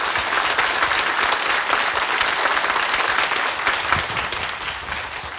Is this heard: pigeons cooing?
no